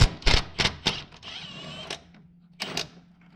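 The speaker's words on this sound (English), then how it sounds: "I have a 12 millimeter wobble on a nice long extension that I'm going to get in here." Sharp, closely spaced clicks of a ratchet driving a 12 mm wobble socket on a long extension to loosen a bolt during a Subaru rack and pinion replacement, a short burst, a brief pause, then a few more clicks.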